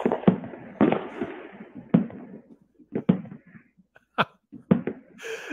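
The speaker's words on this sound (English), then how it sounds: "fireworks be distracting" Fireworks going off outside in the evening, a series of sharp booms and cracks spaced irregularly, some with rumbling tails and one distant crackle near the end.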